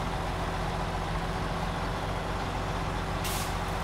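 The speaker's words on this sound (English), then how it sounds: "Come on, truck." Truck engine droning steadily in the off-road driving game Snowrunner, loud and close throughout, with a short hiss of air brakes at the very end.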